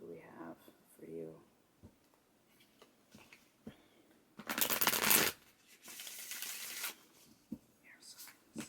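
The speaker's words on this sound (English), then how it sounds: "one last shuffle of air signs" Tarot cards shuffled in bursts of riffling and rustling, with one loud, dense shuffle in the middle and a softer one after, close by and separated by quiet handling and brief talk.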